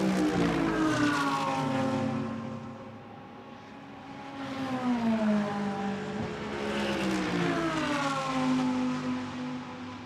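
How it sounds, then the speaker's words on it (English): GT3 race cars sweep past at the Spa circuit, two loud, whining engine pass-bys rising and falling in pitch, heard from trackside. "Sit here and listen to these cars all day long. They do look and sound fantastic."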